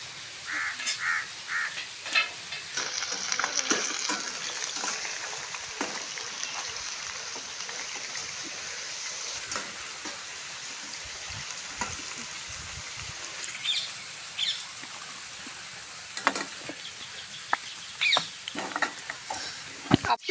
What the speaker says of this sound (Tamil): பூரி போட்டோம்ல அந்த எண்ணெயிலே இப்போ வந்து சிக்கன் சிக்ஸ்டி ஃபைவ் போட்டுடலாம்